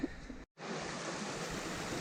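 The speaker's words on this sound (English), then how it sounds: "Yeah, lovely little waterfall." A small waterfall beside a mountain path on the way up Snezka in the Czech Republic gives a steady broadband rush of falling water, close and continuous, broken once by a brief dropout, with no voices.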